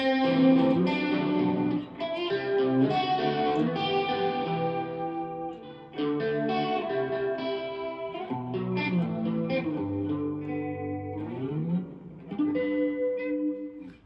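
An electric guitar runs through a scale, notes stepping upward with distortion and chorus shimmer and a touch of echo, played alone.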